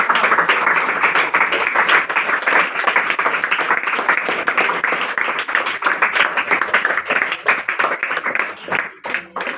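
A crowd applauds loudly to thank a respected correspondent at a gathering with children present; dense, steady clapping fills nearly ten seconds before thinning and tapering off at the end.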